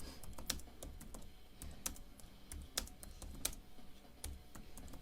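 Heavy-handed typing on a computer keyboard: irregular, hard, clacking keystrokes, close but quiet, with a few notably sharper strikes among the steady tapping and no voices.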